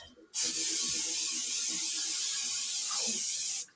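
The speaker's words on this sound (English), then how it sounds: "Now, I am going to spray the pan here." Cooking spray coats a pan for peanut butter fudge in one continuous, close, even hiss lasting about three seconds.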